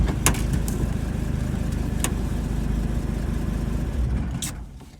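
A 5-cylinder diesel engine swapped into a Dodge Ramcharger runs with a steady, loud idle, then is cut off by sucking on a vacuum hose and winds down in the last second. A few sharp clicks sit over the rumble.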